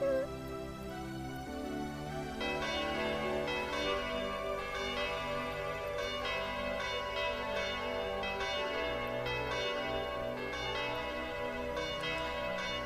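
The legendary bell in Tokimeki Memorial 2 rings out in a chiming melodic peal, layered bell tones blending with music over several seconds, moderately loud and without talking.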